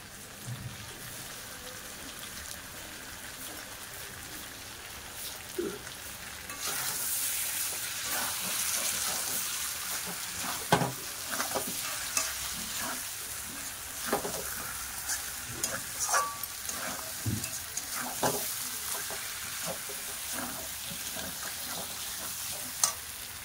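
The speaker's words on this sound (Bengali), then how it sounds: "দেখুন খাসির মাংসটা কষানো হয়ে গেছে, তেল ছেড়ে দিয়েছে।" Mutton sautéing in oil with Kashmiri chili powder, quiet at first and then a fuller sizzle broken by repeated spoon scrapes and knocks of stirring.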